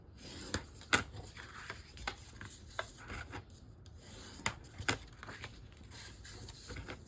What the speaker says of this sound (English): So we're going to just go ahead and burnish on all 4 lines.